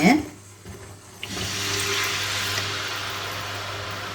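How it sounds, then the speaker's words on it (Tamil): After a brief clatter, water used to rinse a mixer jar begins pouring steadily into a cooking pan of tomato curry, a continuous rushing splash that holds until the end. "நான் மிக்சி கழுவுற தண்ணி இதில் ஊற்றிடுறேன்"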